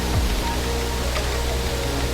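A strong waterfall at Babak Pelangi in Lantan, Central Lombok rushes steadily, a dense, unbroken roar of falling water that fills the whole scene without pause.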